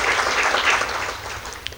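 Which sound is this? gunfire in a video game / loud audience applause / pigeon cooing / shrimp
loud audience applause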